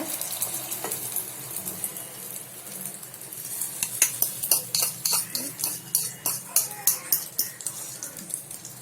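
Hot oil in a ladle sizzles as beaten egg is poured in for an omelette, while a utensil scrapes and stirs in quick, rhythmic strokes that grow more distinct toward the end, close by with no talking.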